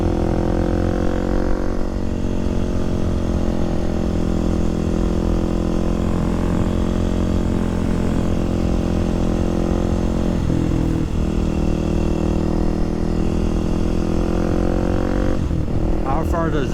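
A Kawasaki supermoto motorcycle rides through Chicago streets, its engine holding a loud, steady drone with wind rush the whole way and slight shifts in pitch.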